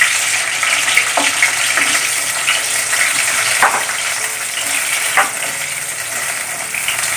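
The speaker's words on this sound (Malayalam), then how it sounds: "വെളിച്ചെണ്ണ ചൂടായിട്ട് ഇനി നമുക്ക് ഇതിലേക്ക് ഈ വെണ്ടക്കായ ഇട്ട് കൊടുക്കാം" Sliced okra frying in hot coconut oil, a loud continuous sizzle up close with occasional sharp crackles and brief stirring scrapes.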